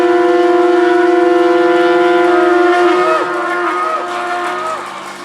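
A long, loud, steady trumpet-like horn blast holds one sustained tone for about three seconds, then its pitch bends and falls away as the sound fades, with no voices.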